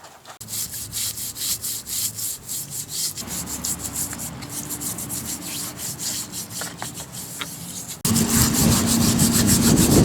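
Paint and rust are scrubbed off a motor mount from a Yates American J180 planer, a close, continuous rasping rub of repeated strokes that grows noticeably louder and harsher near the end.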